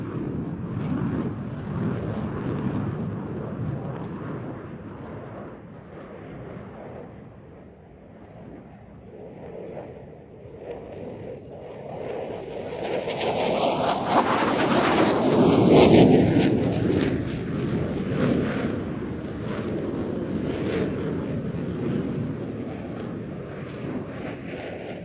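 Two fighter jets, a JF-17 and an F-16, roar through a side-by-side Cuban 8 at Airshow Turkey in Izmir, a long rumbling jet noise that swells to a loud close pass midway and then fades under wind.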